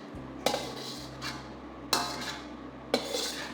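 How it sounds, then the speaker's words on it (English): Tofu stir fry ingredients tossed in a pan with sauce, three separate clattering scrapes of utensil against the pan, each a short burst of metal contact with quiet gaps between, over a low steady hum. "Give all the ingredients a quick toss to make sure that all the ingredients are coated with the sauce"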